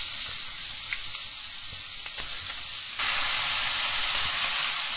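Washed, sliced bottle gourd added to a hot pan with turmeric for a South Indian lauki sabzi, giving a loud, steady hiss of sizzling that swells suddenly partway through and holds on.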